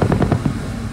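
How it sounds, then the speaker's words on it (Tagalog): Heavy machine guns fire out at sea on the West Philippine Sea during a military exercise, a quick string of loud, rumbling bursts that blur into a continuous roar. "umalingaw rin sa malawak na West Philippine Sea ang sunod-sunod na putok ng heavy machine guns"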